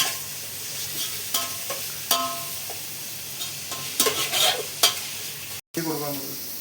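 Sliced onions frying in a pan for a sardine curry, stirred as they turn brown: a steady low sizzle with repeated spoon scrapes and clicks against the pan, close and fairly clear, briefly cut off near the end.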